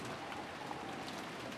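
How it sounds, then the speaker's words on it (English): A heavy rain downpour in the Umineko When They Cry visual novel hisses as a steady, even wash of falling water, continuous and fairly loud with no voices. "As we opened the front door, the downpour was quite terrific."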